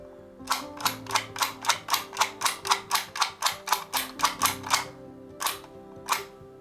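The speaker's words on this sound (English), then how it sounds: "Now just install the buttons and enjoy clicking." Small 3D-printed fidget toy buttons clicking in a steady run of about seventeen crisp, close clicks, then a short pause and two final clicks, with no voices.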